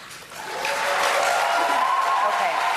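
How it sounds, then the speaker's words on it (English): Debate audience applauding, a dense wash of clapping that swells in after a quiet start and holds steady and loud, with a faint voice threaded through. "you guys notice how the audience was clapping, right?"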